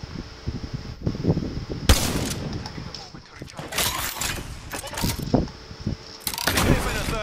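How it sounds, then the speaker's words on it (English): Knuckle cluster firing in Apex Legends, a burst of loud sharp explosive pops and crackles in several clusters, mixed with game effects and a player talking over it. "Stand back, knuckle cluster's firing."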